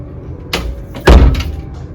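A school classroom door with a metal strip over its latch swung open, giving a soft click and then a heavier thud and rattle as it moves, close by, with no voices.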